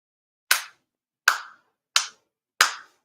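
Four sharp, ritual hand claps ring out alone at a Shinto ceremony, evenly spaced with clean decays and silence between them.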